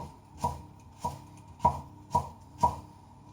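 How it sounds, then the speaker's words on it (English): Vegetables for a cheese soufflé chopped thinly with a knife on a board, five evenly spaced crisp knocks, close and fairly quiet, no voices. "So just taking our time to chop these really thinly."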